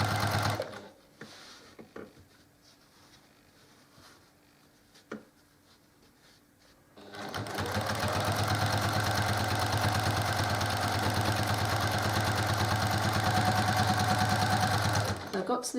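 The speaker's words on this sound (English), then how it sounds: "I'm going to stitch to just inside the edge on the other side" A sewing machine stitching quilt fabric for quilt-as-you-go rows starts after a quiet stretch with a few soft clicks and runs steadily for about eight seconds, a close, even mechanical hum.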